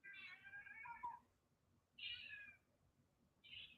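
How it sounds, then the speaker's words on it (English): A cat whines and meows in three drawn-out cries, close and clear, separated by short pauses against a quiet indoor background. "is wrong with that cat? I don't know why she's whining tonight."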